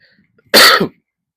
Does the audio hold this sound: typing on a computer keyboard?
no